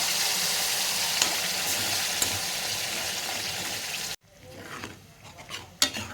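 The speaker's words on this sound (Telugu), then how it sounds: "నేను ఇప్పుడు ఇది టమాటాది ప్యూర్ వేసేస్తున్నాను." Tomato puree for a mattar paneer curry sizzles steadily in a pan at close range, then drops abruptly to a quieter simmer with a few clinks of a utensil.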